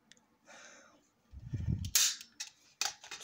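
A gunshot sound effect in a horror-themed game, heard as two or three sharp, loud cracks after a low rumble, with a voice briefly in the mix.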